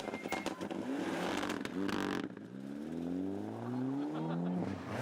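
A Group N WRC rally car spinning on a stage on the last loop, its engine revving and rising in pitch after a brief rough scrabbling burst, loud and close with no talk.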